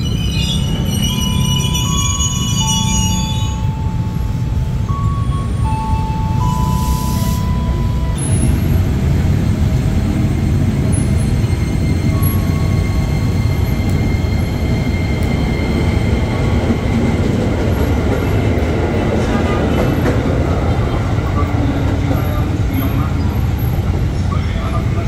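A KRL Commuter Line train at Cawang Station, Jakarta, rumbles continuously, with a brief high squeal or chime early on, the heavy rolling noise steady and close.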